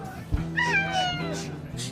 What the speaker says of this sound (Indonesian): Kucing siapa nih?